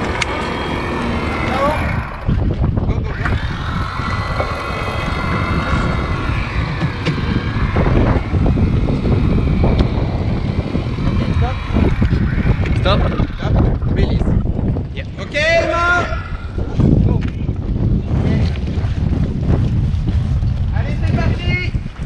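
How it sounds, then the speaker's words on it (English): Sailboat heading out to sea, with strong wind buffeting the microphone and a constant rushing roar of wind and water throughout, while people talk over it. "Oh, finally I'm sailing away from this island again."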